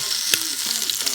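A pot roast sears in an Instant Pot, giving a steady, close hiss of broadband sizzling with a single brief clatter partway through and no voices.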